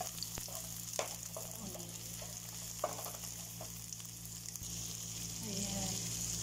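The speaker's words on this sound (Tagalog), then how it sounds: "nilagay ko na yung garlic at saka ginger. Mix natin" Garlic and ginger sauté in a pan with a soft, steady sizzle and scattered light stirring clicks, all fairly faint. A voice speaks briefly.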